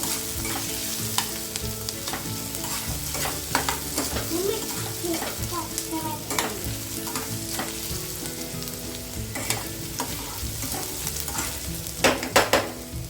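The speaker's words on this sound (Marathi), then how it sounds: "तर आता आपला कांदा सोनेरी रंगावरती आलेला आहे बघा, परतलेला आहे सोनेरी रंग होईपर्यंत." Onion frying in a pan while cooking egg bhurji, a steady close sizzle with frequent scrapes and clinks of stirring against the pan throughout.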